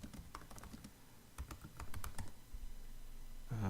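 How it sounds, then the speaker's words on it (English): Password typed on a MacBook keyboard, a quick run of light key clicks, close and quiet, ending in a brief louder rustle. "Apparently I need to type my password."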